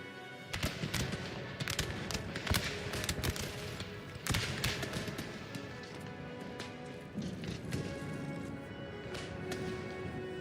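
Musket volleys from massed infantry in Napoleon: Total War, with repeated sharp cracks and ragged bursts of fire rolling across a battlefield, some shots clustered and others scattered, without talk.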